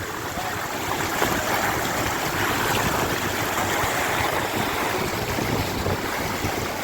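Floodwater rushes continuously and loudly across flooded farm fields in a dense, steady roar, like a fast-flowing torrent, with no pauses throughout.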